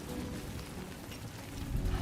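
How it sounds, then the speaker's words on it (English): Steady rainfall in the video game Death Stranding 2, a continuous broadband wash of falling rain that stays even and fairly loud throughout, swelling slightly near the end, with no voices. "Great. Rain. Gotta move."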